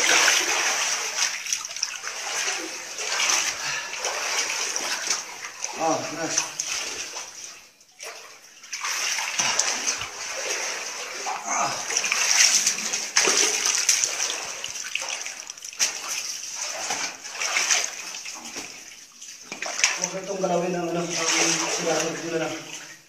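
Water is poured out and splashes in uneven bursts, trickling and gushing near the microphone while people talk over it now and then.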